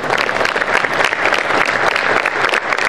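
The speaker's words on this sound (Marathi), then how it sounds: "सर्वांना विनंती आहे की तुमच्या जागावर उभं राहावं आणि टाळ्यांच्या कडकडाटात त्यांचे अभिनंदन करावे" A standing audience at a college and youth association event claps in a loud, dense, continuous burst of applause, close and steady throughout.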